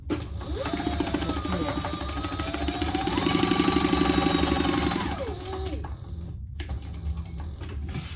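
A sewing machine basts fabric for a mini backpack, its motor whirring in a steady loud run with rising and falling pitch as speed changes, then stopping near the end and leaving faint room noise.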